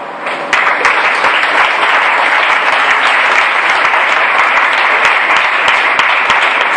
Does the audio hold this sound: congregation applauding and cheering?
yes